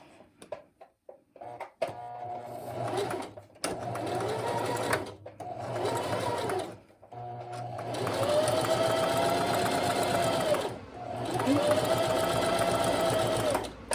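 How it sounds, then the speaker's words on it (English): A sewing machine edge-stitches along the fold of a fabric face mask, running in steady buzzing bursts separated by short pauses, with a louder, longer run near the end. "And have my needle on the right and just edge stitch right along that fold"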